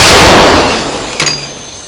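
A single loud, booming howitzer blast that starts the clip and rolls off into a long fading rumble, with a shorter sharp crack about a second later.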